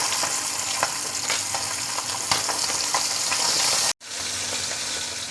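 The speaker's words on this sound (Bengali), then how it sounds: "মাছটার এক পিঠ ভাজা হয়ে গেছে, এখন আমি উল্টে দিচ্ছি।" Pabda fish crackle and sizzle in hot oil in a wok after being flipped, a dense, close, continuous fry with faint utensil taps, cut off sharply near the end before resuming.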